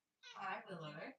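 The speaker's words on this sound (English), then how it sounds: "that's my cat meowing in the background if you heard her" A cat meows close by, overlapping a person's brief spoken greeting.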